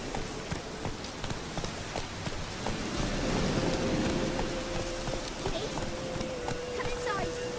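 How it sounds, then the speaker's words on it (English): Steady rain falls in The Witcher 3 game world, a dense continuous hiss with scattered drop ticks throughout, swelling slightly midway, while a voice talks over it and a faint tone runs through the second half. "Oh, and it's raining too."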